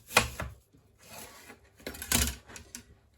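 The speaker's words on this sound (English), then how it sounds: "Now I'm going to chop my red onion. So I'm just cutting this in quarters also." A knife cuts a red onion into quarters, producing a few sharp, close chopping knocks spaced irregularly, with a softer scraping stretch between them and no talking.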